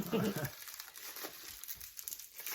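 Plastic or paper packaging around jars of mango jam crinkles and tears near the microphone in short rustling bursts, loudest at first, with quiet voices in the background.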